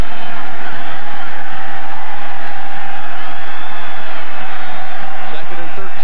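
A big stadium crowd roars at the LSU vs Michigan State Independence Bowl college football game, a loud, dense, continuous wash of cheering and shouting with a commentator talking over it.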